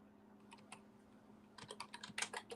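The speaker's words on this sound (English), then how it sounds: "I can hear the keys." Computer keyboard keys being typed on at someone's workplace during a phone call, sparse taps at first then a quicker burst of close, crisp clicks over a low steady hum.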